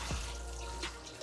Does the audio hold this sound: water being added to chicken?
yes